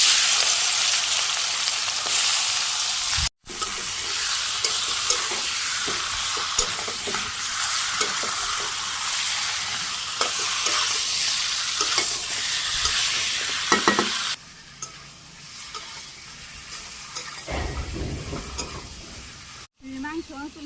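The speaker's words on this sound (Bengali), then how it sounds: "শুকনো লঙ্কা ফুরনি আর জিরে ফুরনি এসে গেছে মাংস দিয়ে দিতেছি" Chicken meat frying in a pan with dried chili and cumin powder in a Bangladeshi village kitchen, a loud continuous sizzle with bursts of stirring that eases and quietens toward the end.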